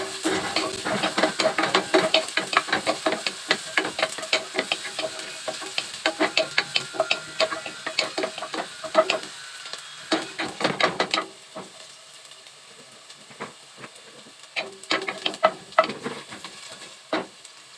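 Garlic sautés in a pan for chicken adobo, with a soft sizzle under frequent close scraping and stirring clatter that comes in irregular bursts.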